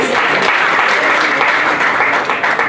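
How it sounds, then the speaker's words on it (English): Audience applause at a New Year community celebration after a sung performance, a steady, dense wash of many hands clapping that holds at full strength throughout without letting up. "So can we have another round of applause for Alex?"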